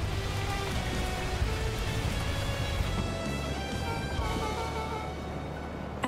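A rainstorm falls in the video game Beacon Pines, a dense, continuous patter of raindrops hitting surfaces with a low rumbling bed underneath. It holds steady and fairly loud for several seconds, with no voices.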